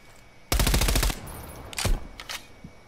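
A close, loud burst of rapid automatic gunfire rakes the Jeep on the Nuketown 84 map in Call of Duty, followed by a few shorter scattered bursts, with no talking over it.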